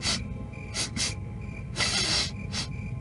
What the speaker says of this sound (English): All except for a kind of rickety little sniffling sound.